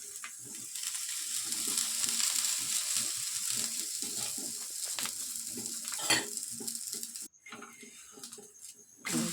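Talipattu flatbread fries gently in oil on a flat pan, a soft, continuous sizzle with faint crackles and small clinks that quietens briefly near the end.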